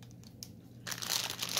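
Plastic bags holding pre-stamped cross stitch kits crinkle, first with faint scattered rustles, then a loud continuous crumpling close to the microphone.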